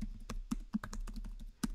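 Typing on a computer keyboard: a quick, irregular run of about seven close, crisp keystrokes over a faint steady hum, with no speech.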